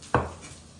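A knife chops sweet Kumato tomatoes into chunky pieces on a board, one single crisp chop up close followed by quiet.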